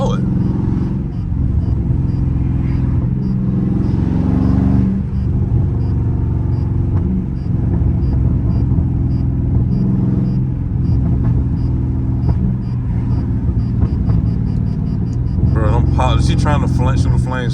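A loud Dodge Charger Scat Pack rumbles steadily while driving on a street, with a deep continuous engine drone, occasional revs and a crackling burst near the end, under someone talking.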